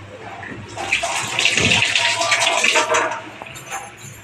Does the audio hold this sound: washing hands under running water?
yes